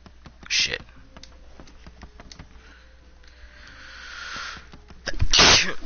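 A single loud sneeze bursts out near the end, preceded by a shorter sneeze-like burst early on, with rapid computer keyboard typing and clicking running underneath during a gaming session.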